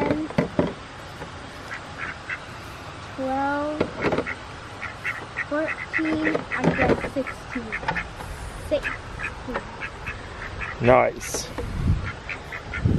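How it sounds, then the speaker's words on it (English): Farm ducks quack repeatedly nearby in short bursts and chattering runs, some loud and close, while a person speaks briefly in between. "The ducks eat a little bit of grain and then they're like, no, I'd rather come over and talk to you."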